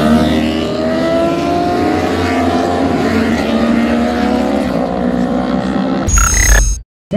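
Race motorcycles at the Glavica Požega 2022 moto race roar steadily with layered engine tones, a loud continuous drone that ends in a brief burst of revving before cutting out.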